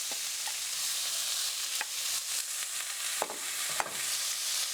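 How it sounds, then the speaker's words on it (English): Steady hiss of vegetables sizzling in a frying pan before peas are added, with a few soft clicks and scrapes of a utensil stirring, no talking. "It's sizzling away now."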